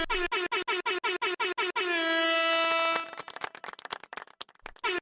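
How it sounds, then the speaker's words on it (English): A loud air horn sound effect blasts in a rapid string of short, stuttering bursts. It then holds one long sustained blare before breaking into choppy, scattered honks. "the air horn isn't too loud"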